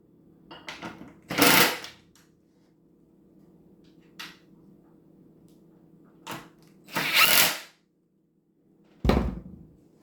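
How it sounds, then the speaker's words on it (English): Electric impact driver bursts while assembling cheap Amazon skateboard trucks onto a DGK deck: three loud, short rattling runs of one to two seconds each, with a few faint taps between and a steady low hum underneath. "This is so much easier with an electric impact."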